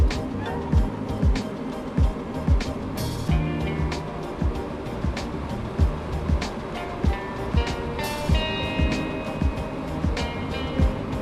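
Electric skateboard rolling downhill with active braking engaged, a steady rumbling roll with repeated rhythmic thumps and occasional brief high whines, close and continuous.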